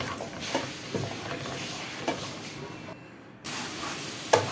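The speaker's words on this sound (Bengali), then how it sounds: "এখন আমি মশলাটা ভালো করে কষিয়ে নিব।" Spice paste for a country chicken curry fries hard in a pan, giving a loud, broad hiss and sizzle with a few scraping stirs. The sound briefly drops away, then returns strongly. No one speaks.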